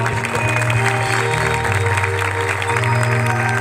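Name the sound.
audience clapping in rhythm at a prayer festival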